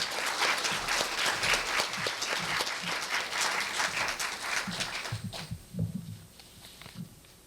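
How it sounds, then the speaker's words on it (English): Audience applause fills a Korea University conference hall as the university president is welcomed, loud and sustained at first, then thinning to scattered claps and faint room noise near the end. "please give him a big round of applause"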